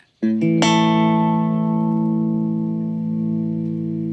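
An electric guitar with Jackson pickups plays through an amp with a little reverb, with the BOSS ST-2 pedal switched off: a couple of quick picked notes lead into a sustained clean chord that rings out steadily for several seconds.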